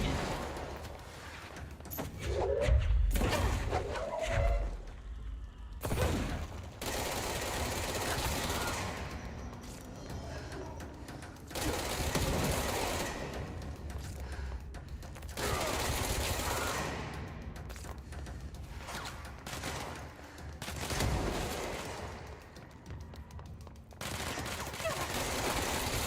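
Gunfire in the video game Control comes in repeated bursts and rattling volleys over shifting game sounds, with stretches of rapid automatic fire breaking through a busy background.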